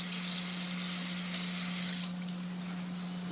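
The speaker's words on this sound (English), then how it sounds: "I'm going to wash the apple" An apple rinsed under a running kitchen tap, a steady close hiss of flowing water that eases slightly toward the end, with no voices.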